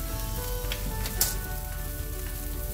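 A dosa topped with Monterey Jack cheese sizzles steadily in a hot pan, a dense, even frying hiss with a few faint pops and ticks, close and continuous with no talking.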